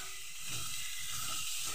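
Garlic, onion, ginger and turmeric sautéing in a pan for a pangas fish curry, giving a steady close hiss and sizzle with soft periodic scraping, no talk.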